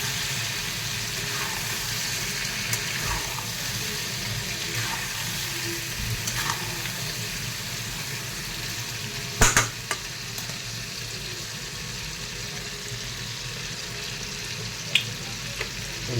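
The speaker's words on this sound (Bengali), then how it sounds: "আলু দিয়ে ভালো করে কষিয়ে নিচ্ছি" Potatoes frying and being stirred in a pan for roo fish soup, a steady close sizzle with scraping stir strokes throughout and one sharper clatter near the middle, no voices.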